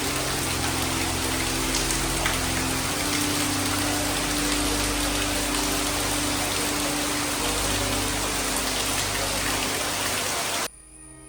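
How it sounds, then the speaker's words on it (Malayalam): Heavy rain pours steadily over Kumarankary village in Alappuzha district, a dense, continuous roar of drops drumming on surfaces with a low rumbling undertone, holding constant until it drops off sharply at the very end. "എന്താ മാതിരി മഴ."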